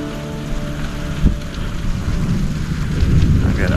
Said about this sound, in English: That's the first time that's seen rain.